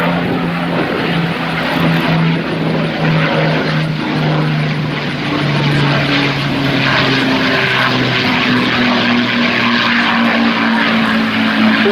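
De Havilland warbird propeller engines at a military aviation museum, a loud sustained drone with slowly sliding pitch as the aircraft passes, with wind and crowd rumble beneath.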